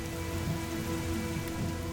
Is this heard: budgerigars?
no